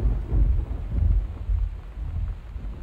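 Thunder rolling during a rainstorm in the exploration video game Gone Home, deep rumbles that swell and fade in waves against a steady wash of rain and wind, fairly close, with no talking.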